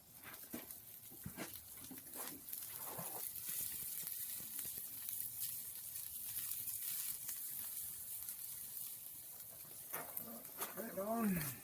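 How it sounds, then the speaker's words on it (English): Onion hits a hot fry pan for curried sausages with bacon, producing a continuous soft sizzle, with louder clattering at the start and end and a speaking voice over parts. "So I'm just going to throw these on the fry pan, because that's all nice and hot now."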